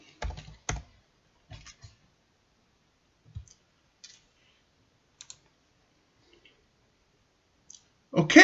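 Keys tapped on a computer keyboard while entering a search for forex trading books on Audible, heard as sparse, close clicks in short bursts separated by silence, ending with a louder cluster.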